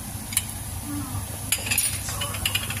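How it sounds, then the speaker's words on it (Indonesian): Stir-fried vegetables with oyster sauce sizzle steadily in a pan while a utensil stirs and scrapes, with sharp metallic clinks against the pan standing out over the continuous frying hiss, close and alone. "Aduk hingga tercampur rata."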